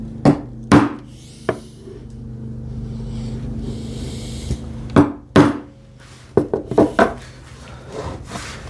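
Chisel chopping a housing dado by hand in wood: a series of sharp, close mallet-driven strikes at irregular intervals, some single and some in quick clusters, with scraping and rubbing between blows.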